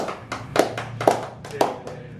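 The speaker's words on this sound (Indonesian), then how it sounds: "Tepuk tangan." Scattered claps from a theatre audience at a special Youth Pledge Day stage show, a few sharp hand claps at an uneven rhythm, fairly quiet and brief.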